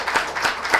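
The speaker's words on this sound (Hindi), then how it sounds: "ताली बजाओ इसके लिए।" A classroom of students applauding a classmate, a quick burst of many hands clapping close by in rough, overlapping pulses.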